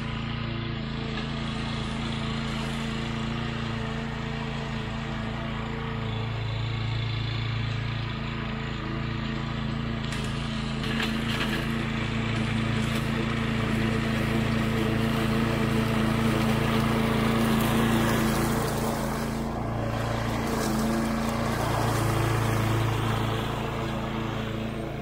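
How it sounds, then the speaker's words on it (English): A lawn mower cutting grass along a trail on a rural property drones steadily and loudly from start to finish, its engine pitch wavering slightly as it moves, with no talking. "we'll keep on mowing."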